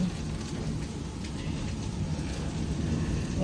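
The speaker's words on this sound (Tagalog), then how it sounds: "Lakas ng ulan namin, guys." Dense, steady roar of heavy rain pouring down during a hailstorm, broadband and constant throughout, with no talking.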